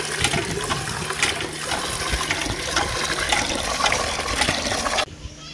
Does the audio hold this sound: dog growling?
no